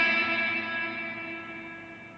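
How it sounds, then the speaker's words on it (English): A single sustained electric guitar note rings out with heavy reverb, its bright harmonics fading slowly into a long, smooth decaying tail with no other sounds. "What happens when you're playing with lots of reverb is you have this long decay on your"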